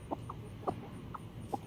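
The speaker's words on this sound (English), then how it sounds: "Couple of grumpy hens." Broody hens give short, grumpy clucks, about five quiet, evenly spaced notes from close by, with no voices over them.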